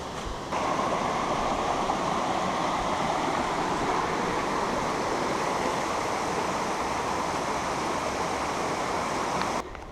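Small streams running beside a gravel path on the West Highland Way in damp conditions, a steady, loud rushing of water filling the whole stretch with no voices.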